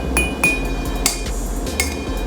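A clear plastic cup and a glass cup being tapped, a handful of sharp close taps at an uneven pace, some leaving a thin ringing tone that hangs briefly before fading.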